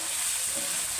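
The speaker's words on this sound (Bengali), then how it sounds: "এটাকে আমি ভালো করে কষায় নেব" Ginger and garlic paste with spices fry in a pan for an egg and potato curry, giving a short, even, close hiss of sizzling with no other sounds.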